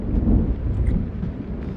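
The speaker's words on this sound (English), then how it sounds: "Storm's coming." Deep rolling thunder from an approaching storm rumbles continuously and loudly, with a low, heavy roar that swells and fades slightly, no voices present.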